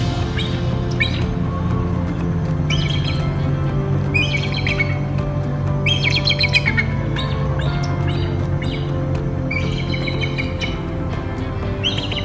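An eagle calls at a lake in Florida, sending out repeated bursts of high, chittering notes in uneven clusters, moderately near, over a steady low background rumble.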